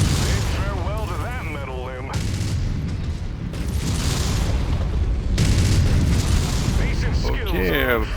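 Mech weapons fire repeatedly in MechWarrior 5: Mercenaries, with heavy booms and bursts and swooping energy-weapon sweeps across the clip, dense and loud game combat.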